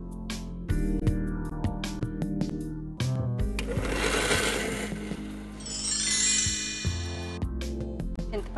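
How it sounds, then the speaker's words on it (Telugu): Mixer grinder whirring as it grinds tamarind with salt for curry-leaf wheat rava pulihora, a loud steady motor drone with clattering bursts and brief pauses, no voices. "ఫస్ట్ చింతపండు కొంచెం ఉప్పేసి గ్రైండ్ చేసుకున్నాక"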